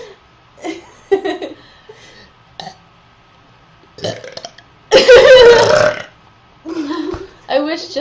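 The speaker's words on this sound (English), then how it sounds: "I don't know how you learn to burp that way." A girl lets out a long, loud, rough burp lasting about a second during a two-girl burping competition, with quiet murmurs and chuckles before it and a short reply afterward.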